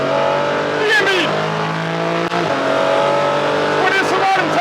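Porsche 718 Cayman GT4 on a racetrack, its loud engine note dropping in pitch as the car brakes hard and downshifts into a corner, with a steady in-car engine drone throughout and a brief dip mid-way.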